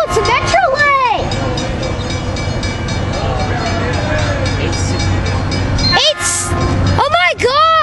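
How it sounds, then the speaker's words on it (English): A Metrolink commuter train rolls past close by with a heavy rumble, and loud horn blasts sound at the start and again near the end while people talk excitedly over the noise. "Oh, no, it's a Metrolink!"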